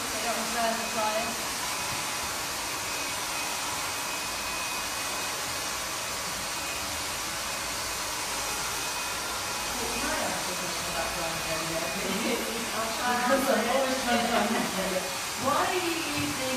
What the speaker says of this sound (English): So I just use a slow speed, medium to high heat, depending on what hair dryer you're using